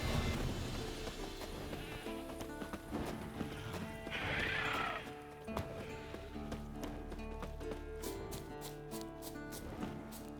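Horse hooves clip-clop steadily while a horse neighs and whinnies in The Witcher 3, a purebred warhorse amid battle sounds and a swelling music score, fairly loud throughout.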